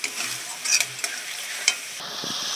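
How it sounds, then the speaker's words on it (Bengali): Dry red chilli spice paste sautéed in oil, with a constant bright sizzle, sharp spatula scrapes and taps against the pan, close and loud. "ভালো করে মশলাটা কষিয়ে নিতে হবে।"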